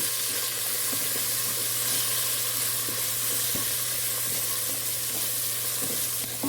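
Green chilies, mint and coriander leaves sauté in hot oil for chicken biryani, a continuous dense sizzle close by with a low steady hum underneath and occasional soft stirring knocks.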